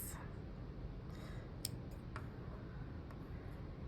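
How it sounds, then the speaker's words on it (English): Scissors snip loops off a woven weaving project in a few faint, sharp clicks close by, with quiet background noise between the cuts. "You cut these loops."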